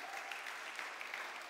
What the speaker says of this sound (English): let's give the Lord a big clap